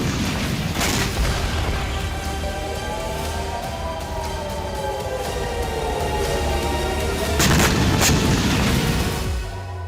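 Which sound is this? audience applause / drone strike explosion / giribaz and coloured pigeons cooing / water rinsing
drone strike explosion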